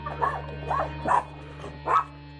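Four sharp barks from a small dog near a trailer, evenly spaced and close, over a constant low electrical hum.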